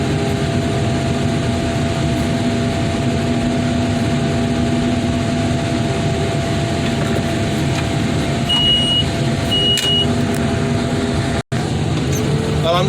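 A car crusher machine runs steadily in an outdoor scrapyard, a constant loud engine drone with faint mechanical whines and a brief dropout near the end.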